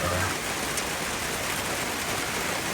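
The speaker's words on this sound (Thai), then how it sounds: "ฝนตก" Steady rain hisses evenly on a surface, a continuous wash of falling drops with no voices.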